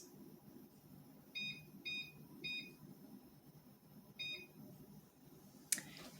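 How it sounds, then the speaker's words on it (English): A kitchen timer gives short electronic beeps as its buttons are pressed, three quick presses close together, then a pause and one more, all faint over a quiet room hiss, ending with a sharp click. "We're gonna set our kitchen timer for 20 minutes."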